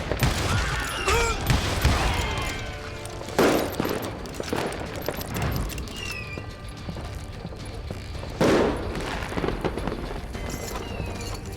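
Gunfire in Call of Juarez: Gunslinger, mixed with horse hooves clip-clopping, as loud shot bursts land near the start and again around the middle and later, over a busy, continuous background.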